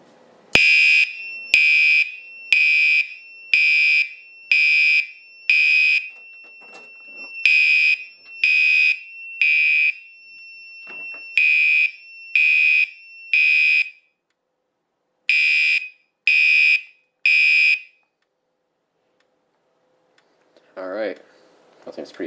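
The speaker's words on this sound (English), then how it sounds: "So let's go ahead and pull the pull station." Firelite MS-4 fire alarm panel sounding after a pull station is pulled: loud repeated bursts of high electronic tone in a march-time pattern, groups of three separated by short gaps, then a brief murmur of voice at the end.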